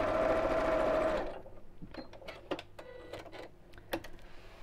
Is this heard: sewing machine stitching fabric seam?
yes